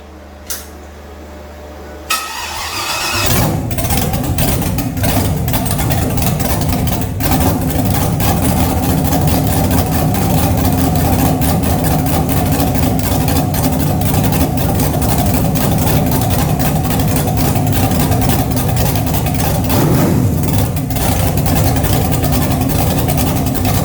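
An LS V8 engine cranks briefly, fires up, and settles into a steady, rumbling idle that runs on evenly close by.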